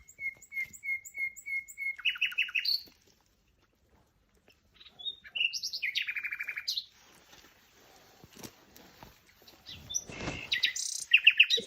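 Nightingale song recorded outdoors: clear, close phrases of repeated whistled notes, rapid trills and churring bursts, separated by short pauses, with no voices.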